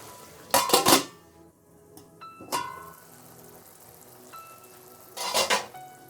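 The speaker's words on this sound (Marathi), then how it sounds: "तर 2 मिनिटं आपल्याला गॅस स्लो करायचा आहे आणि झाकण ठेवायचं आहे." A lid goes onto a cooking pot of mixed vegetable bhaji. Several sharp metallic clanks and rattles sound close up, with a softer clink in between and a final burst of clattering at the end.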